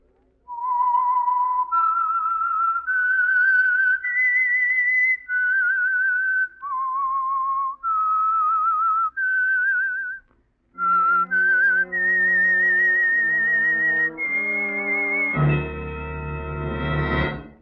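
A solo whistler carries a slow, clear melody of sustained notes as a 1949 radio drama theme, ending as a band joins in with a brief orchestral flourish.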